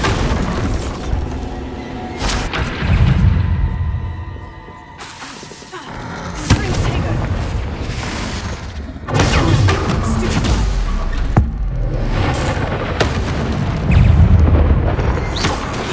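Repeated booming blasts from the Bombarda spell in Hogwarts Legacy, a fantasy video game, arrive as several loud, heavy thuds with rumbling crashes over a dense, continuous bed of combat noise.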